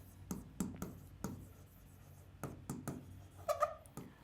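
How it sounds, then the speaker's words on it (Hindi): A pen scratches across a surface as a word is written out, a series of quick, close strokes with short gaps between them, fairly quiet and without talk. "अगर मैं यूनिवर्सिटी लिखता हूं"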